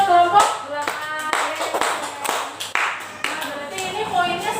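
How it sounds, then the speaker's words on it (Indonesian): A group of people in a classroom claps together for one team, loud and close, with dense hand claps running for several seconds and a few brief voices mixed in. "Tepuk tangan buat kelompok belakang"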